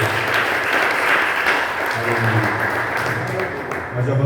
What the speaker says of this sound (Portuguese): Palmas bem alegres, Senhor.